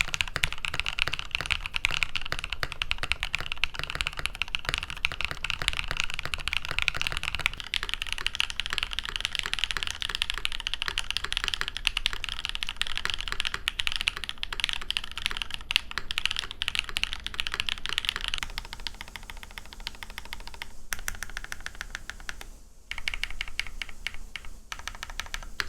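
Steady, brisk typing on an SAT75 mechanical keyboard, a dense stream of close clicks and clacks that continues for the whole stretch with brief gaps near the end.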